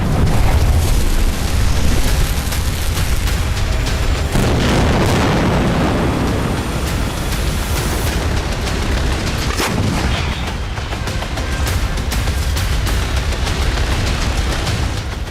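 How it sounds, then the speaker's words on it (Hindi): Airstrike explosions: heavy booming blasts and rumbling explosions roll continuously, dense and loud, with sharp cracks layered over a deep sustained roar. "जहां फिर से धमाके की गूंज है, जहां फिर से हवाई हमले हो रहे हैं।"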